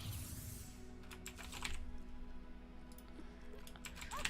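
Typing on a computer keyboard during a Legends of Runeterra match, a faint run of quick, close key clicks in uneven bursts over a low steady background hum.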